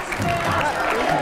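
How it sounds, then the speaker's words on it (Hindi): A studio audience at a televised debate gives loud, steady applause, a dense wash of clapping that stays at full level throughout, with some voices mixed in. "जोरदार ताली एक बार फिर से कन्हैया जी के लिए"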